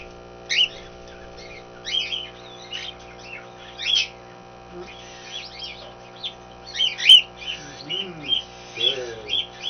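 A hand-fed cockatiel gives repeated short, bright chirps in irregular bursts, close to the microphone, over a steady low hum, with a soft human voice murmuring briefly near the end.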